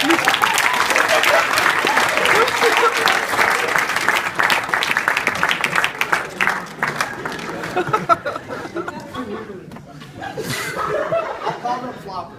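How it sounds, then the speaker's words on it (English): Audience at a live hypnosis stage show breaks into loud, sustained applause mixed with chuckles and scattered chatter, while a host's voice carries over the clapping as it gradually thins out. "Give us a big round of applause."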